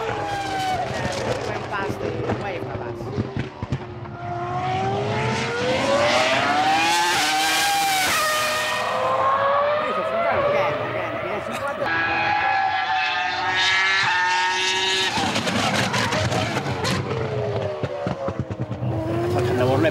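A 2005 Ferrari Formula One car on a test run screams past at high revs, its engine note rising and falling in a sustained pitch sweep, loud and close, with a voice talking over it.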